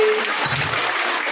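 A crowd applauds during a game at a village yatra festival with steady, dense clapping that fills the whole short moment, loud and close, with a brief whistle-like tone at the start.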